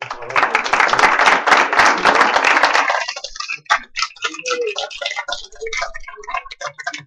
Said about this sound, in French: Je tenais tout d'abord à applaudir Maître Krikorian.